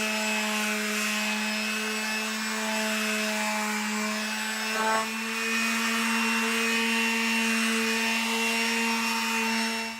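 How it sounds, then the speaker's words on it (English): An electric power sander working over a wooden utility table, a loud steady motor whine that runs continuously with a brief dip near the middle, no talking. "let's see what the sander does"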